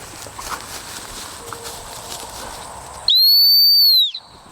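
One sharp, shrill dog training whistle blast, about a second long, cutting through quiet outdoor field ambience during bird dog training.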